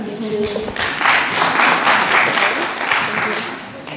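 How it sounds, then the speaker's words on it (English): Audience applause at an anti-hate conference event swells up after a brief voice, then continues as a broad, moderately loud patter of clapping. "An applause for that."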